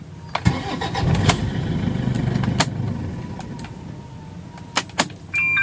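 A Toyota Fortuner diesel engine cranks and starts with a brief high squeal at the outset, then settles into a steady mid-pitched idle, with a few sharp clicks near the end.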